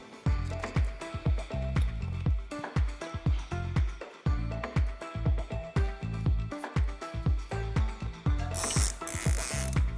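Zip ties are pulled tight to route a cable along an electric bike frame, producing a long run of rapid ratcheting clicks in short repeated pulls, close and crisp, with no talking.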